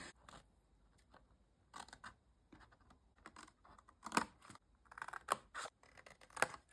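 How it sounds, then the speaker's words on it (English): Scissors snip off the flap of a paper envelope for a junk journal page, giving a series of short, crisp cuts and paper rustles, close and fairly quiet, without talk. "Yeah, I'm going to cut mine off."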